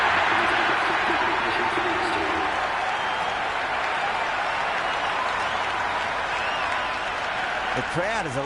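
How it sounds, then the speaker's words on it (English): A stadium crowd at a T10 cricket match between the West Indies and Australia keeps up a continuous roar and applause, with a commentator talking over it throughout. "The crowd is electric right now."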